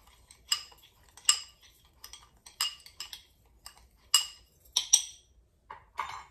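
Seasonings stirred with onion butter in a bowl, a utensil clinking and scraping against the bowl in irregular bursts, close and fairly crisp, with quiet pauses between strokes.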